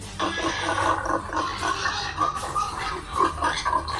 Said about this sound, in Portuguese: Fazia um barulho de um porco grande, um barrão.